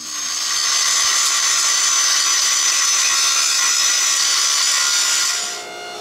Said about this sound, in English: grind all the welding surfaces clean and flat